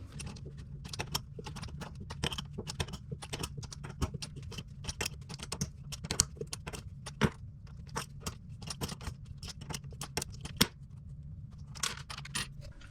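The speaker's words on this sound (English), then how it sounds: "now we're going to loosen the bolts" Bolts on a toilet being loosened, with a dense run of small metallic clicks, taps and scraping ticks close by over a low steady hum, a few sharper knocks standing out.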